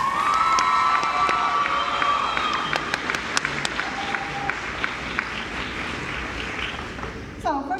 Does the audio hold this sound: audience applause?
yes